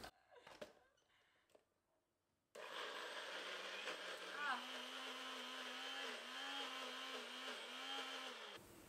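A kitchen blender whirs loudly for about six seconds as it purees chickpeas with a quarter cup of water into hummus, its steady motor drone wavering in pitch as the load thickens, after a few seconds of quiet handling.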